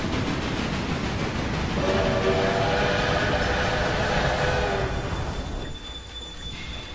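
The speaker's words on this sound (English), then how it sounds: "I'm assuming the train that's in the way is the typical freight train" A freight train in the railway video game Railway Empire rumbles past, its steady loud roll overlaid by a sustained horn-like tone in the middle that cuts off as the rumble eases.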